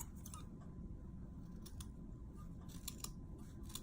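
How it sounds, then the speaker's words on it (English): Scissors snip the bottom off a fabric lamp tassel in a series of quiet, quick clicks, faint and close, with no talking. "So I'm going to take the scissors"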